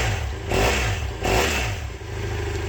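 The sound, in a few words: motorcycle engine revving with factory exhaust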